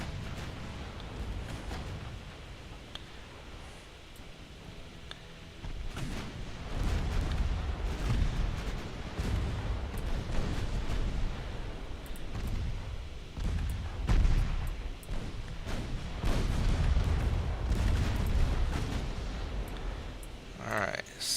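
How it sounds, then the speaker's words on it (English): Naval guns fire at a cruiser in a battle in the video game Ultimate Admiral Dreadnoughts, with repeated heavy booms and rumbling blasts overlapping in loud, irregular volleys that keep the low end thundering. "I'd like to finish off that cruiser with the bigger guns."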